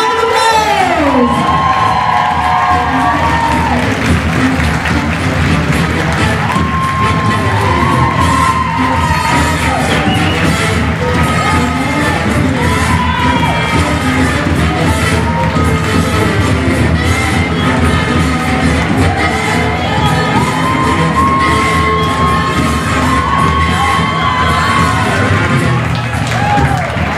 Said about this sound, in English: give these winners a huge round of applause